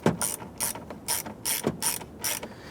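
A ratchet clicks in repeated short bursts while snugging down 7mm screws on a headlight knob for a 1994-2004 Ford Mustang, about five evenly spaced ratcheting strokes close up.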